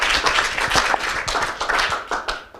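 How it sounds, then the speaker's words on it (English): Small audience at a climate summit clapping for a speaker, a loose patter of individual claps close by, irregular and thinning toward the end. "So can we please have a round of applause for Jackie?"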